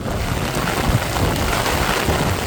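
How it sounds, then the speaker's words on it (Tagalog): Typhoon rain pours steadily in a dense, continuous hiss over Itogon, Benguet, at night, with a low rumbling roar of whistling wind underneath throughout. "Tila galit na galit ang langit sa lakas ng buhos ng ulan at pagsipol ng hangin."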